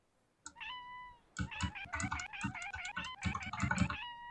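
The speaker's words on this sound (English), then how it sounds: "So if you press G, you can meow." A WEBFISHING cat emote gives a single meow, followed by a rapid string of repeated meows layered over clattering keyboard typing, fairly quiet and close.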